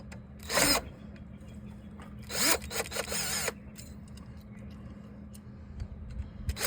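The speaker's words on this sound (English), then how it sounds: "Turn my drill down a little bit, so I don't want it to break" A power drill works on an AC unit in two short whirring bursts, the second one longer, with quieter handling noises and ticks between and after the bursts.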